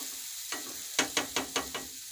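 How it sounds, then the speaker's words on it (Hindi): Garlic sizzles in a little oil in a frying pan while pizza sauce is being made, a soft hiss broken by a quick series of sharp spatula scrapes and taps. "हमने फ्राई पैन में थोड़ा सा ऑयल ले लिया है। अब इसके अंदर हम थोड़ा सा लहसुन ऐड कर देते हैं।"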